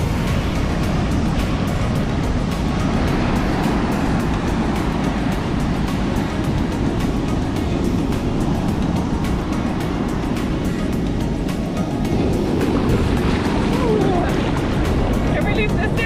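Ocean waves at Port Stephens near Dark Point roll in as a continuous, loud wash of surf that fills the whole stretch, while people talk nearby.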